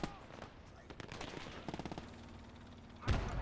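Gunfire in the World War II game Gates of Hell during a 1v1 PvP match: scattered distant shots, then a quick rattling machine-gun burst, followed by a heavier boom, all fairly quiet against background battle noise.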